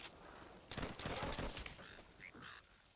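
M1 Garand rifle fire in the video game Call of Duty: World at War, a burst of sharp, rapid cracks amid faint game ambience, quiet overall, with a few honking bird-like tones afterward.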